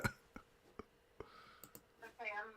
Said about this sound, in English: Typing my name.